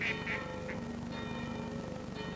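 Ducks quack at a village pond beside a church, a few short nasal calls in quick succession at moderate distance over a steady outdoor background with a faint bell-like tone.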